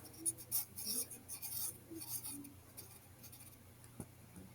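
Pen writing a word on a paper booklet page, a soft continuous scratching with short strokes and pauses, close and quiet, with a faint steady hum behind it.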